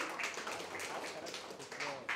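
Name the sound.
audience applause for a rapper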